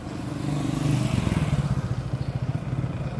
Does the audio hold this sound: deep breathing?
no